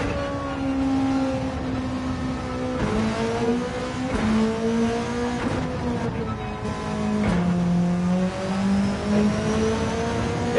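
Volkswagen Beetle engine racing in the Gran Turismo 7 video game, a steady droning rev that rises and falls through gear shifts, loud and continuous with a few quick drops in pitch between pulls.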